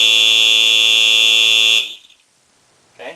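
A Simplex 4903-9422 fire alarm screecher blares a loud, continuous piercing shriek for nearly two seconds, then cuts off abruptly into near silence before a faint brief chirp.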